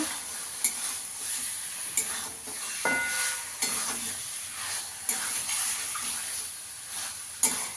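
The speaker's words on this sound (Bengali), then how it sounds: "চিকেনটা দিয়ে ভালো করে মিশিয়ে নেব।" Chicken being stirred into spices in a pan for korai chicken, a steady scraping, sizzling texture with a few sharp clinks of the spoon against the metal, close and moderately loud.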